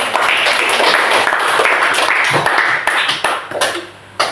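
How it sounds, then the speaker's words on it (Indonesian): A classroom crowd claps and applauds continuously for a few seconds, dense and fairly close, tapering off near the end. "Tepuk tangan untuk kita semua."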